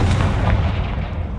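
Confringo fire spell blast in Hogwarts Legacy, a loud booming burst that rumbles deep and fades over about a second.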